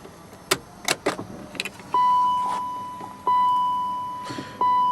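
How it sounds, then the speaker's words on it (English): Clicks and rattles of a key turning in a BMW E39, then electronic beeps and a steady tone come on as the aftermarket stereo head unit powers up, repeating twice. "I am going to turn the key and see if I get sound and power from the head unit"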